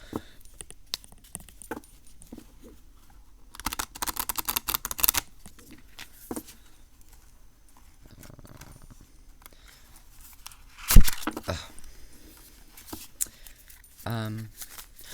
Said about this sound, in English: So now let's see how it shuffles.